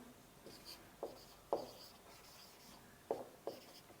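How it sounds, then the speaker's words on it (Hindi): Chalk or marker strokes on a board during a physics lesson on light refraction: about five short, scratchy taps and strokes in an irregular rhythm, quiet and close, with no voices. "तो अब हम लिखते हैं"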